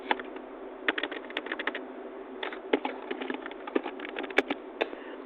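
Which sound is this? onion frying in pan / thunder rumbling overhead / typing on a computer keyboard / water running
typing on a computer keyboard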